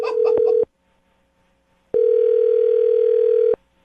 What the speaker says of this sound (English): I just dialed the phone number.